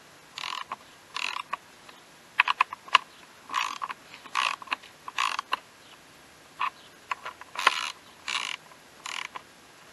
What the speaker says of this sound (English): Now we're going to go ahead and torque them.